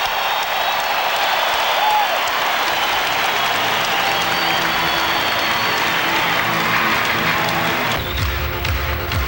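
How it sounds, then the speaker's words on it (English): A basketball arena crowd roars and applauds during a timeout in a 1992 NBA playoff game between the Blazers and Lakers, a dense sustained wash of cheering that drops away near the end. "Listen to the crowd."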